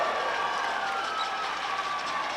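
A basketball crowd roars after a Loyola player's dunk in a 1999 game: a loud, steady wash of cheering and applause that holds at full strength throughout.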